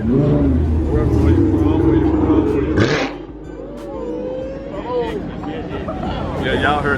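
Dodge Hellcat exhaust roaring on a Texas street, loud revving for the first few seconds before cutting off sharply, then a lower engine rumble continuing under someone talking close by.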